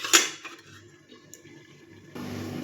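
A metal lid is set onto a cooking pot with one sharp, close clank, followed by quiet clatter and a soft kitchen background.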